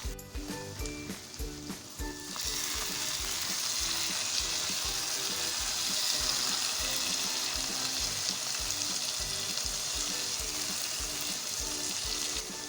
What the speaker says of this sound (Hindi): अच्छे से मिक्स करेंगे और मीडियम टू हाई फ्लेम पे हम इसको भूनेंगे